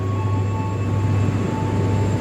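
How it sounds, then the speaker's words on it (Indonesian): A KRL JR205 electric commuter train standing on platform track 2 at a railway station, a steady loud low hum with a constant electrical whine, no voices. "Ini di jalur 2 KRL JR205"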